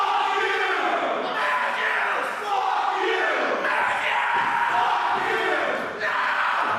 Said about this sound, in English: trying to help him find that second win by cheering and clapping for him